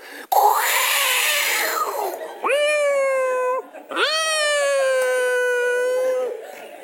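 A performer's voice imitates startled cats with a rough hiss followed by two long, drawn-out wailing meows, loud and close, alone.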